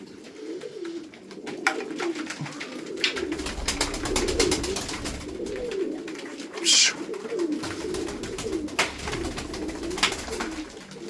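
Tumbler pigeons coo steadily and close by, with bursts of wing flapping and rustling as the birds fly overhead, a continuous low cooing throughout.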